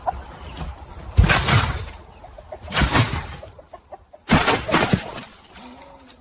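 A chicken clucks and squawks in several loud, agitated bursts separated by short pauses, close and clear with no talking.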